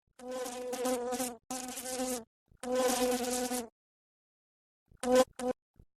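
Flies buzzing in a television advert for a fly repellent, several close, loud buzzing bursts of a second or two each, separated by silences and ending in short faint buzzes.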